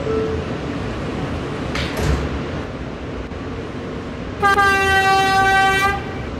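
A subway train rumbles at a station, with a loud sustained horn-like chime near the end as the doors close and it prepares to depart.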